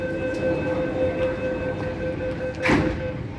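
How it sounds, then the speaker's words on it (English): An MTR SP1900 train departs a station on the Tuen Ma line, a steady rumbling drone with a sustained tonal whine and a brief rushing swell near the end, heard from the platform. "we're sending the train out"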